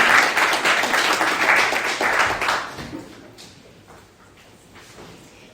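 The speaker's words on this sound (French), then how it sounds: "Nous pouvons applaudir le Seigneur pour lui rendre gloire pour ce qu'il fait dans nos vies" A church congregation claps together for a few seconds during a Sunday service, then the applause fades out into quiet room tone.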